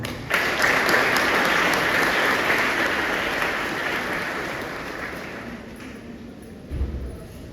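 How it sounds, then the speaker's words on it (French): Sustained audience applause at a school centenary ceremony for École Léonce Mégie, loud and dense at first, then slowly thinning and fading over about seven seconds, with a low thump near the end. "Non sans vos applaudissements, s'il vous plaît."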